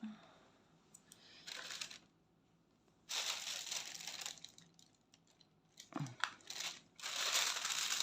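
A plastic sheet crinkling and crackling in several close bursts while it is pressed into place with small magnets, with quiet pauses between the handling.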